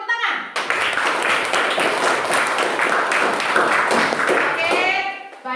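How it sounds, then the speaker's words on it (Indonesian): A classroom of students claps for a presenting group in a teacher-training lesson, with brisk, close hand claps starting suddenly and running steadily before stopping, and a voice breaking in at the end. "Berikan tepuk tangan."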